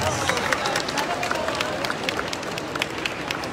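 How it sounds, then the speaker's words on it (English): Applause from an audience at a festival queen runway competition, a steady, moderately distant wash of many hands clapping mixed with crowd murmur throughout. "we can give a warm round of applause"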